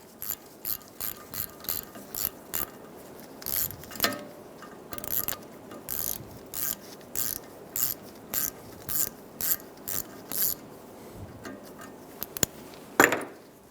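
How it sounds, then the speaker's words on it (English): A hand ratchet fitted with a T30 bit loosens backing plate bolts on a 2007-2011 Toyota Camry front steering knuckle, giving steady bursts of close, crisp pawl clicks in a repeating rhythm, ending with a sharper metallic clank. "Using a T30 bit, we're going to remove the bolts for the backing plate."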